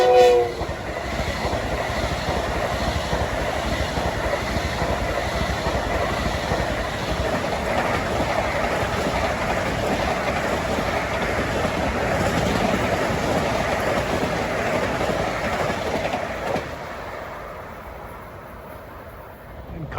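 A Long Island Rail Road train of M9 cars passes Forest Hills at rush hour, a sustained loud rumble with rhythmic wheel clatter and a horn at the start, fading as it moves away.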